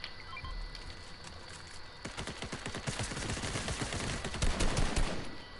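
Rapid gunfire in a shooter video game crackles as a dense burst of repeated shots, building louder over the last few seconds after a quieter opening, with no talk over it.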